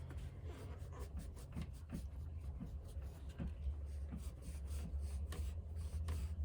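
Oil pastel being blended on paper with steady pressure, giving a continuous close rubbing and rasping sound with rhythmic strokes throughout.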